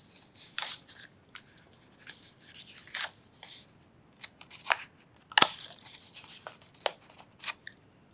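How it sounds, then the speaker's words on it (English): Scissors snip in short, crisp cuts, trimming double-sided tape along the edge of a chipboard junk journal page, close and quiet, irregularly spaced with small pauses between snips. "it does make trimming off the double-sided tape a little trickier"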